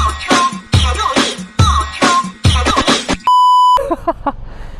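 Hazard lights on a Wuji SR450X motorcycle beep in a loud, repeating electronic pattern of four rhythmic bursts, followed by a sustained steady tone and a few softer chirps.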